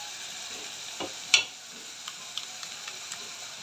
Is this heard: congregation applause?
no